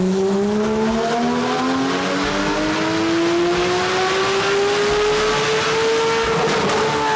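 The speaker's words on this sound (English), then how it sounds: "they will twin turbo your car, and it'll still sound good, because you can still rev it to the sky" A twin-turbocharged Porsche 911 GT3 RS engine revs steadily upward without a break, its loud, close note climbing in pitch throughout, with no talking over it.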